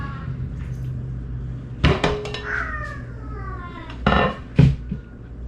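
Metal ladle clanking against a pot while scooping squirrel stew with carrots and vegetables, giving a few sharp scrapes and knocks spaced apart, close by, over low background noise.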